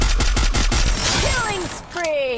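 Free Fire gunfire rattles in a rapid burst of close, sharp shots, followed by sliding, rising in-game effect tones, with a voice faintly under the action.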